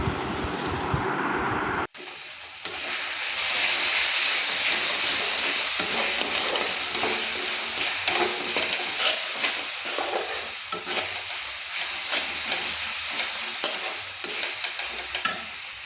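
Cumin, coriander and chili powder for a fish curry sizzle loudly in a hot pan. The hiss starts abruptly and stays continuous, broken by scraping stirring strokes, with no talk.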